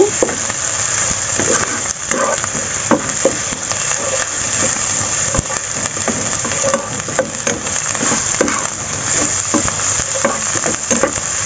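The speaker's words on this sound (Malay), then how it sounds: "kita tumis dia sampai naik bau" Dried anchovies (ikan bilis) and dried garlic stir-fried in a wok, a steady loud sizzle with frequent sharp scraping of the spatula against the metal, close up throughout.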